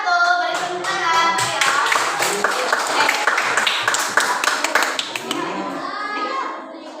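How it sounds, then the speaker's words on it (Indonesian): Group clapping in a classroom as a presenting group is called to the front, dense and sustained handclaps with children's voices chattering underneath throughout. "Beri tepuk tangan."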